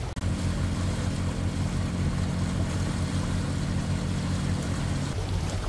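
Boat engines drone steadily at sea with re-pitched propellers, a loud continuous low rumble with a constant tonal hum and water wash, running unbroken and alone.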